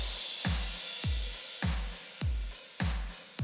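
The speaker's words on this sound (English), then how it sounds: "And all the drums together sound like this." Industrial metal drum beat playing alone: six evenly spaced heavy kick-and-snare hits with crash cymbal wash, each ringing out with a booming low tail, steady mid-tempo rhythm, close and loud.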